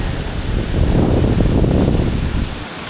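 Floodwater from a small brook rushing hard, a loud, dense, steady roar close by with wind buffeting the microphone, no voices.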